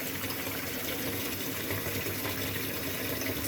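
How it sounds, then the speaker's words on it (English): Tap water runs steadily into a kitchen sink as it is warmed for proofing yeast for whole wheat bread, a close, continuous gushing hiss that lasts throughout with no talk. "I'm just running the water here till it gets warm"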